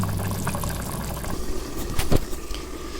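Chicken drumstick curry gravy simmering in a pan gives a steady, soft bubbling and sizzling hiss, with a brief louder stir or splash near the end and no talking.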